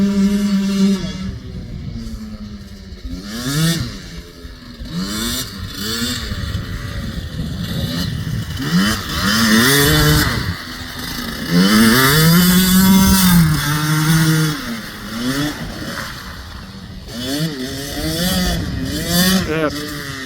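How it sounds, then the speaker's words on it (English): A TC65 dirt bike engine runs in mud, revving up and down in rising and falling sweeps that stay loud and fairly close throughout, with people talking over it. "It's not the cleanest running bike, but gets along pretty good in the mud."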